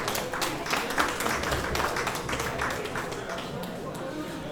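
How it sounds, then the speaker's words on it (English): An audience at an Ogbomosho diaspora convention applauds the treasurer, giving a continuous, fairly even round of clapping that holds steady for several seconds and then eases slightly. "Please give him a round of applause."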